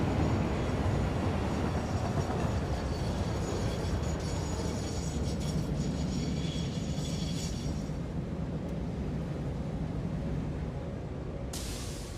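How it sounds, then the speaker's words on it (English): A test train rumbles along the tracks in the Satisfactory video game with a steady heavy roll and faint clatter. The sound stays loud and continuous throughout, with no talking. "Maybe I'll just leave this test train running for a little bit and see if any problems crop up"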